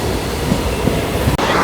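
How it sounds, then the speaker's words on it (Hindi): A passenger train runs along the rails near Nagpur, a loud steady rumble of wheels and carriages heard close up, with a quick dip in the noise near the end. "फाइनली अपनी ट्रेन निकल चुकी है यहाँ से"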